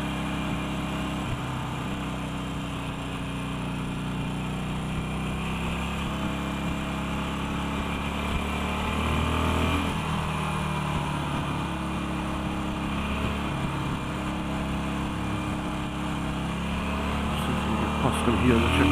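A motorcycle engine on a test ride runs loud and continuous, its pitch climbing as it revs toward the rev limit under a droning hum and wind rush.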